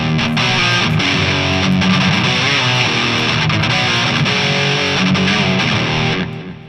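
Electric guitar played through a BIAS FX JVM Marshall amp patch with a 5150 overdrive, giving a dense, hot, heavily distorted tone that rings loud and continuous for the whole stretch, tapering at the end.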